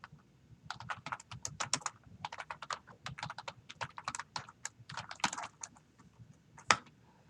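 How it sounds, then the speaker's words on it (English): Fast, uneven typing on a computer keyboard during coding work, with close, crisp clicking keystrokes in bursts and short pauses, no voices. "That whole time I was typing and nothing showed up."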